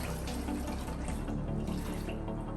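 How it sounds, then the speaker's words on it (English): A dirty sponge is swished and rinsed in a bucket of clean water during a rinseless car wash, a dense continuous splashing and sloshing close by with no speech. "I'm flushing it out."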